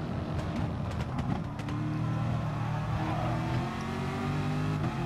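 A McLaren race car engine in Gran Turismo Sport, holding a steady high-pitched drone at speed in slipstream, loud and continuous with a slight rise in pitch.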